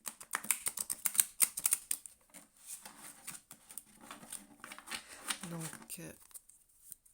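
Tarot cards being shuffled by hand, a fast papery riffle and patter of crisp flicks, fairly faint and close, with a brief spoken word near the end.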